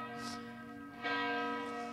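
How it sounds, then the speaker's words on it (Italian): A church bell rings in a quiet outdoor setting, its sustained tones ringing on with a fresh stroke about halfway through, heard alone at moderate distance. "appena citata inizia a suonare la campana"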